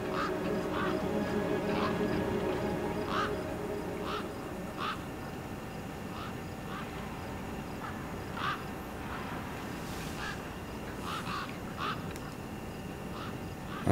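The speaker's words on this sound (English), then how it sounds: "Then, I heard them. Gang-gang birds." Gang-gang cockatoos calling in a wasteland scene from the Beyond a Steel Sky video game, a series of short creaky, squawking calls repeating irregularly over a steady low background rumble, no voices.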